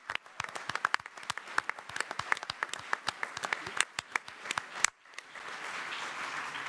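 Audience at an economic forum claps with distinct sharp hand claps that thin out, then a softer wash of general applause follows; fairly quiet overall.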